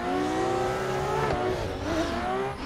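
A drifting race car in the Assetto Corsa video game, driven with clutch kicks, its engine loud and continuous as the revs rise, dip and surge again with faint tire squeal.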